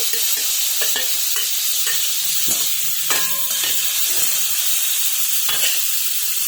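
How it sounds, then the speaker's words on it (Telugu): Paneer and potato pieces fry in hot oil in a kadai, a steady close sizzle broken by repeated clinks and scrapes of a stirring spoon, with no voices. "ముందు బాండీ పెట్టాను ఆయిల్ వేసాను ఇప్పుడు పన్నీర్ ముక్కలు ఆలు వేసేద్దాం"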